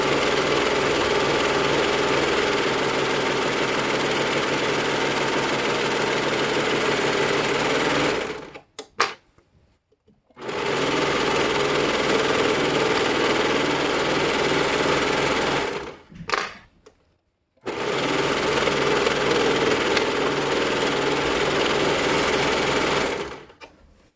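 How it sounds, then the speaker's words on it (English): A serger runs loudly around all four sides of a fabric face mask in three long, steady bursts of rapid mechanical chatter, separated by brief pauses as the fabric is turned. "now you're just going to serge around all 4 sides of this"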